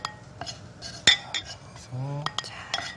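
Dishes and a small bowl clink and knock on a kitchen counter while part of a seafood soft tofu stew is set aside. The sharp clinks come scattered and close, with one louder knock partway through.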